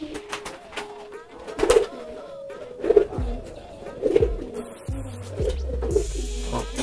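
Pigeons cooing close by, a flock of about twenty birds giving repeated throaty coos at a steady pulse, with other calls and faint talk in the background.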